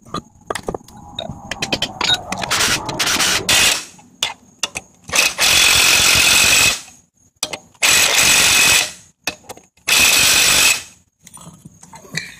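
Metal-on-metal hammering on a Volvo S80 suspension part: a run of sharp, closely spaced taps up front, followed by several long, loud bursts of harsh tool noise separated by short gaps.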